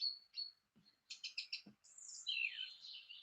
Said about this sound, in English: There is unhelpfully a chaffinch in the background and one competing.